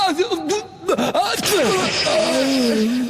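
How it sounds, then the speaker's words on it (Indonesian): A loud sneeze from a character in an animated Pinocchio film, a sharp burst set among voiced gasps and groans, with talking around it. "Bersin ayah keras sekali ya."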